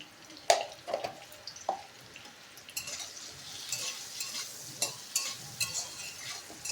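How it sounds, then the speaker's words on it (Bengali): Potatoes seasoned with salt and turmeric fry in oil, with a soft sizzle beneath sharp intermittent clinks and scrapes of stirring in the pan. "একটু লাল লাল করে ভেজে তুলে নেব।"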